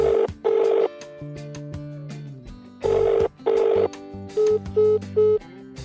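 A telephone sounds a sequence of electronic tones, several bright bursts separated by lower steady beeps, loud and close with no talk.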